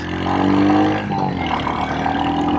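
A Royal Enfield Hunter 350 motorcycle engine revving, a throaty single-cylinder note swelling and falling across a couple of short pulls, close and fairly loud with no talk.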